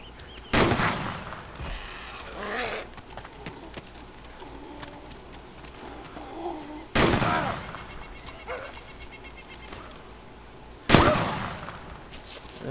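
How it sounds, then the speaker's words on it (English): Three loud, sharp gun blasts in the DayZ video game, spaced several seconds apart with ringing tails, between them quieter rustling and faint background noise, no speech. "Now I'm shooting my gun."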